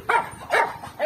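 A guard dog at a chicken coop barks three times in quick succession, sharp and close, with short pauses between each bark.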